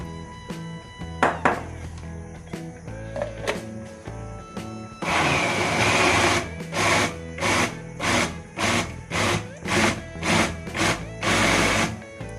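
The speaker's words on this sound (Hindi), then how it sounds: "हमें इसमें डाल के ना इसको ब्लेंड कर लूंगी।" Kitchen blender blending spinach (palak) for palak chicken: a quiet motor whine and a few clicks at first, then the blender kicks in loudly, its whirring surging and dipping in regular pulses, close up and with no talk.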